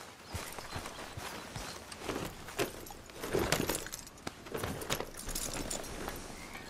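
Horse hooves clip-clopping at a walk in Red Dead Redemption 2, a moderately quiet, uneven series of hoof strikes with some jangling tack, no speech over it.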